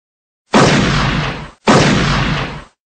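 Two loud, booming gunshots from a video game set in a hospital, each blast hitting hard and ringing out for about a second before fading, with a short gap between them.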